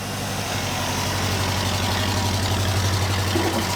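Buick LeSabre V8 engine idling cold after sitting for years, a steady low rumble with an even throbbing pulse, loud and close with no talk.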